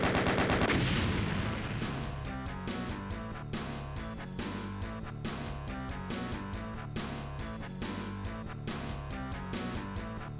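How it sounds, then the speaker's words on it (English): Rocket jump explosions in a video game, a loud initial blast followed by a rapid, rhythmic series of sharp bursts over a steady low backdrop, with no talking. "this is a really awkward rocket jump in which you have to do like a speedrunner style rocket jump"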